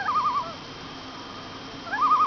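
A spotted sandpiper near a Vermont lake gives two bursts of quick, wavering whistled notes, one at the start and one at the end, clear against a quiet background.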